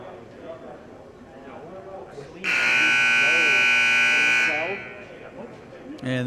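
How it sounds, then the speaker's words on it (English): A loud, steady electronic buzzer at a girls' high school basketball game signals the teams back for the second half, sounding for about two seconds over gym crowd noise and nearby commentary. "And this is a buzzer to signal both teams back for the second half."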